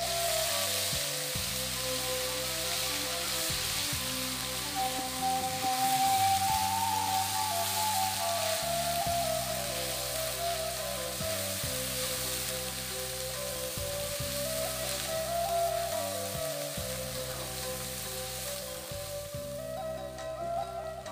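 Ground spice paste for Pariaman-style gulai bagar sizzles steadily in a hot pan, a continuous close hiss and crackle with a faint rhythmic thumping underneath throughout.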